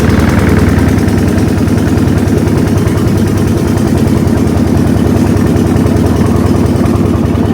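A loud engine runs continuously with a rapid, rattling mechanical beat, steady and close throughout.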